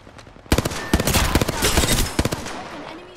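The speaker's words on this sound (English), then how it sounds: "Taking fire!" Rapid bursts of automatic gunfire crack close and loud in an Apex Legends battle, dense volleys of shots packed into a few seconds, with game voice lines and effects mixed underneath.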